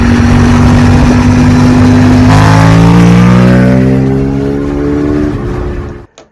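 A 2000 Honda VTR1000 SP1 V-twin motorcycle engine revs hard and close, a loud throbbing roar that climbs steadily in pitch, holds, then falls away before cutting off abruptly near the end.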